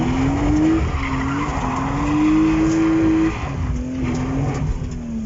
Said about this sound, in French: Ça brûle de la gomme.